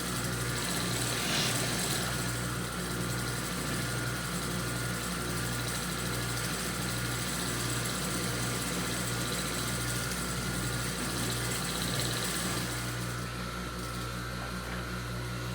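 A sewing machine runs continuously, stitching along the bottom of a fabric pouch to hold the pleats, a close, steady mechanical whir with a fast repeating pulse.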